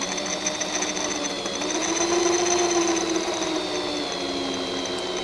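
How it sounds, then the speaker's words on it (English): A drill bit bores into a round metal surface, a steady whining grind that holds continuously at close range with a slight rise in pitch midway, with no talk. "It's just going to start getting right in there and start drilling some material out."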